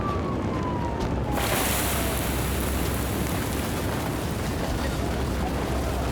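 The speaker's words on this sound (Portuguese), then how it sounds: "E olhem só como a casa está a arder! Jato de água!" A water jet hisses steadily onto a burning Playmobil toy house during a firefighting play scene, a loud, broadband spraying rush that starts with a brief rising whine and then continues unbroken.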